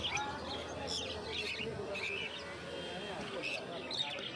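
A pair of pineapple conures chirps at a pet market, with short bright calls scattered through the clip over a busy background.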